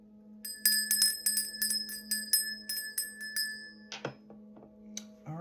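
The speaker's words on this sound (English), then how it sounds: "I'm going to begin by ringing the bell." A small hand bell rings in a quick series of bright, clear strikes, each with a lingering metallic tone, close and alone in a quiet room, followed by a few soft knocks and a brief clatter near the end.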